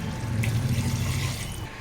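Water being poured into rice for mutton tahari, a steady splashing fill with no voices.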